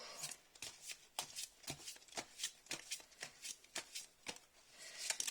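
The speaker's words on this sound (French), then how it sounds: "Je vais tirer une autre carte." Tarot cards being shuffled and drawn, a quick series of crisp riffling and flicking bursts in a steady rhythm, close and fairly quiet, with no voices.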